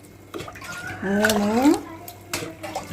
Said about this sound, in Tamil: இதுக்கு 5 கிண்ணம் தண்ணி ஊற்றணும்.